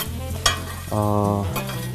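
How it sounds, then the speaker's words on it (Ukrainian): Hot pepper and ginger fry in heated oil while being stirred, a steady close hiss of sizzling broken by a sharp clink of the utensil against the pan and scraping stirring noises. "При постійному помішуванні смажимо ми 1-2 хвилинки."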